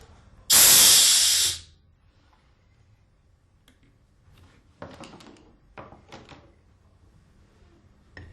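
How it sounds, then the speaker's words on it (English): A sharp, loud burst of compressed air vents from an Alfa Laval Unique seat valve for about a second, followed by quiet and a few faint metallic clicks and taps of handling. "Release compressed air."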